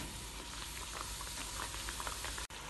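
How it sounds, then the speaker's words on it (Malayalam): Alavangu dough fries in hot oil as a Kerala tea-time snack, giving a steady close bubbling sizzle with a brief break near the end. "ഇനി ഇത് മറ്റേ കയ്യിലേക്ക് എടുത്ത് ചൂടായ എണ്ണയിലേക്കിട്ട് പൊരിച്ചെടുക്കാം."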